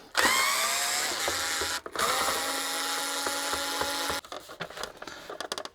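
A power driver whirs in short high-pitched bursts as screws come out of a Nissan Note dashboard, close and fairly loud, followed by clicking and rattling of parts, with no talking.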